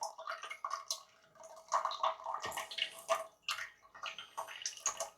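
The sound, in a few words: TDS 0 purified water running from a tap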